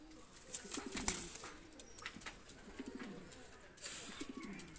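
Young golden pigeon squabs give soft, low, repeated cooing close by, with faint rustling and a few light knocks in the background.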